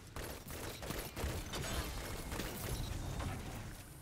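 Rapid bursts of Claws of the Wolf pulse rifle fire in Destiny, repeated volleys crackling steadily over a dense, loud game soundscape.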